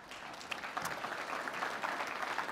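Audience applause at the close of a Toronto 2014 mayoral debate, a dense, steady clatter of many hands clapping in a hall, fairly even in loudness for the whole stretch with no talk over it.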